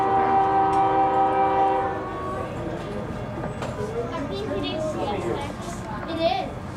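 A CSX freight train passes at Ashland, its horn sounding loud and close with steady harmonic blasts for the first two seconds, then a rumbling, rattling roar of rail cars with people talking over it.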